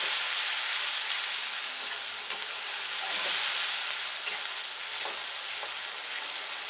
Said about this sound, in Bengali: এবারে এর মধ্যে দিচ্ছি আদা আর রসুন পেস্টটা। কাঁচা লঙ্কা পেস্টটা দিলাম।